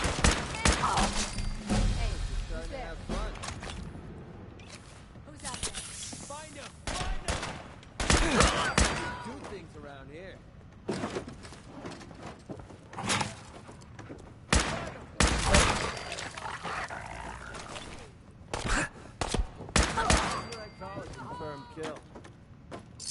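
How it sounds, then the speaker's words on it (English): Raiders' gunfire in Fallout 4 arrives as repeated sharp bursts and single shots, loud and close, spaced irregularly through the stretch while a voice talks between and over the shots. "who's the dumb raider shooting me?"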